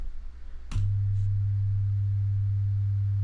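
A steady, pure low sine tone from a Max/MSP cycle~ oscillator switches on abruptly after a brief click and holds loud and unchanging to the end, with no other sounds.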